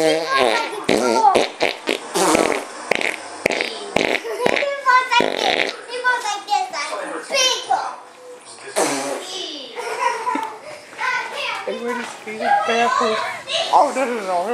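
A child imitates a father's fart with the mouth, repeating rapid sputtering raspberry noises between bursts of excited child speech and laughter, loud and close.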